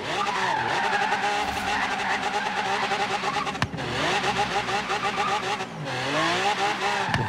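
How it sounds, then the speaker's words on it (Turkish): Tire squeal from a car drifting in a racing video game, a loud sustained screech with engine drone that dips briefly and resumes, continuous throughout. "Drift yapalım hadi."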